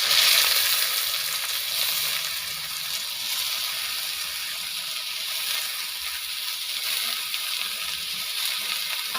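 Chopped ash gourd frying in a hot pan, a steady dense sizzle that holds close and even throughout with soft stirring movement underneath and no voices.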